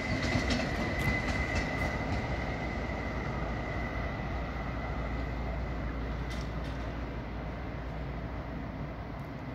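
Constant rumbling interior noise aboard a moving German ICE train, with a broad wheel-and-track roar and faint clicks throughout, no voices.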